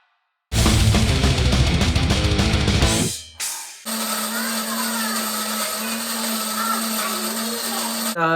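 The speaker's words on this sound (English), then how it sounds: "I'm gonna put this in the grinder over here." An electric coffee grinder grinding 20 grams of coffee beans, starting with a loud, rough burr for about three seconds, then a brief pause and a steadier, higher whine until the end.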